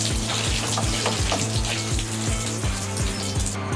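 Water pours steadily into an oak barrel, a continuous close splashing and gurgling stream that runs the whole time with a faint rhythmic pulsing, no talking.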